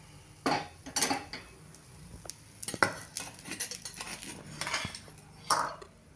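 Bun dosa being flipped in a pan with a spatula: scattered metallic clinks and scrapes of the spatula against the pan, in short uneven bursts over a quiet kitchen background.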